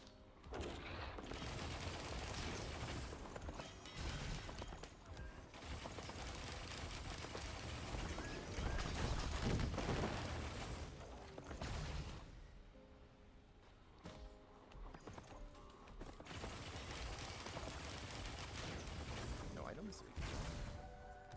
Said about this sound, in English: while I'm shooting this thing, if anytime I let off, it feels like a shotgun effect at the very end of it. Like a machine gun